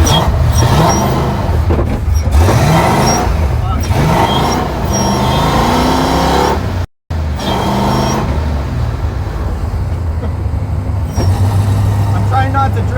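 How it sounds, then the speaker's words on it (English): A Ford Foxbody Mustang drives on a wet road, giving a steady road and engine rumble with tire hiss that runs nearly unbroken, apart from one brief dropout, while people talk over it. "we are driving the Mustang for the first time, and it is really sketchy when it's wet"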